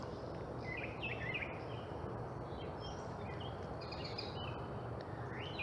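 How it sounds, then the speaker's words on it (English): Birds sing and chirp in an early-morning garden, scattered high calls and trills at a moderate distance over a steady, dense bed of insect and ambient hiss, with no voices present. "If you can just hear the birds."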